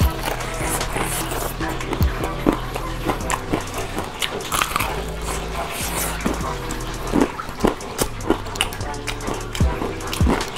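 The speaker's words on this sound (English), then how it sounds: "You hear that crunch?" Bites into crispy fried chicken give repeated close, sharp crunches in an irregular rhythm, standing out over a steady low background hum.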